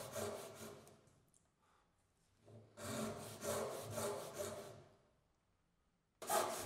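Hand saw cutting wood for a mitred slot-and-tenon joint with a rebate, close and fairly quiet: a few rasping strokes, a pause, then a steady run of back-and-forth strokes and a final burst.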